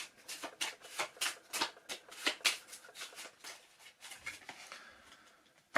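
Playing cards are shuffled close up, a series of quick crisp riffles and flicks in uneven bursts, with no voices.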